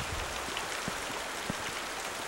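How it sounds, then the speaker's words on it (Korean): Steady rain falling outdoors on a river expedition campsite, a dense continuous hiss with scattered heavier drops tapping at irregular moments, even and fairly loud throughout. "비가 내리기 시작한다."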